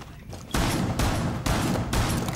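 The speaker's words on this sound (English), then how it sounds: "You can shoot out these holes over here that I'm making." Gunfire punching holes through a wall in Rainbow Six Siege: a few heavy, evenly spaced bursts of shots, loud and close.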